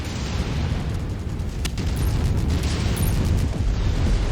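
A missile explosion from the MechWarrior video game, a sustained loud rumbling boom with a sharp crack partway through and continued rolling blast noise, no talk.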